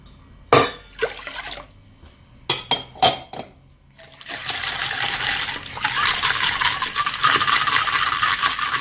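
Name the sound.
adding water to bagel dough mixture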